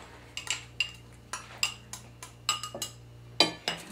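A metal utensil taps and clinks against an upturned pan while scraping out chicken pot pie, a handful of sharp, irregular strikes heard up close and faint, with no voices.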